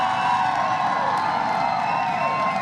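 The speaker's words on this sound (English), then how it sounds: "Can we get a round of applause for that?" A crowd cheers and whoops in a sustained burst of noisy, dense excitement, with no single voice standing out.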